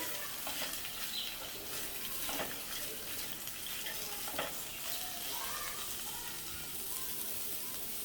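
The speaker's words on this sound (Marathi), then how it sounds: "आता हे आपल्याला परतून घ्यायचं आहे टॉमॅटो" Raw green tomatoes sautéing in a pan over a medium flame, giving a soft, continuous sizzle with occasional stirring scrapes, close but quiet.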